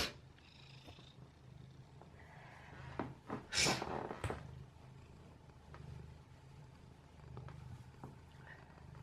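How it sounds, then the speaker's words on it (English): A cat purrs close up in a steady, low rhythmic rumble, broken briefly by rustling and handling noises partway through. "I don't know if you can hear him purring."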